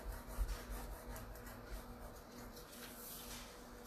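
Scrap transfer being rubbed onto a wooden drawer, a faint, steady, close scratchy rubbing with a slight rhythmic texture throughout, over a low background hum.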